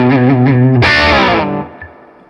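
Fender Stratocaster American Professional HSS on its humbucker pickup, a few quick notes followed by a loud strummed chord that rings out and decays over about a second, with no voices.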